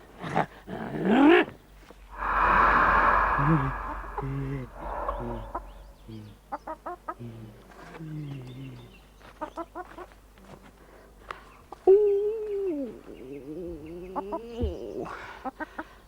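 A hen clucks as a sound effect in a narrated Macedonian folk tale, with a run of close, clear clucks and squawks that rise and fall over several seconds against a quiet background.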